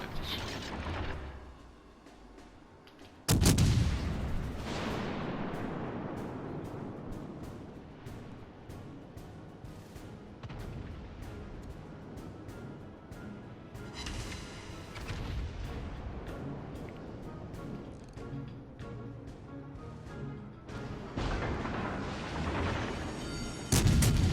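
Heavy naval guns of the legendary cruiser Alaska fire in World of Warships: Legends, sending out loud booming salvos with long rumbling decays, a big blast near the start and another toward the end, with no talk over them.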